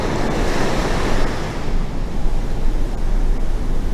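Steady wind and breaking ocean surf on the Oregon coast at a beach boondocking spot, a continuous loud roar of waves with heavy gusting wind buffeting the microphone.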